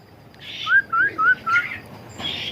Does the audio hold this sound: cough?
no